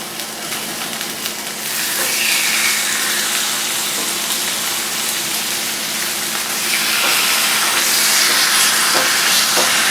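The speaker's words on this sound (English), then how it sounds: "It's starting to sizzle" Marinated ribeye bulgogi beef with gochujang paste sizzles in a hot pan, a loud steady hiss that swells after a couple of seconds and stays strong throughout without talk.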